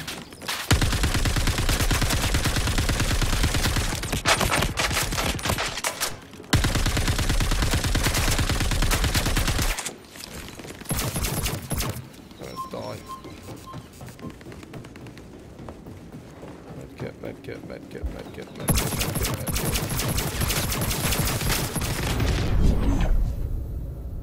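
Intense automatic gunfire in Star Citizen's Star Marine mode, long loud sustained bursts with brief pauses, a quieter stretch in the middle, then heavy firing resumes near the end.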